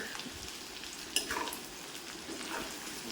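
Crushed garlic fries in hot oil in a pan for a sardine dish, a continuous close sizzle with one brief stir or clatter in the middle and no voices.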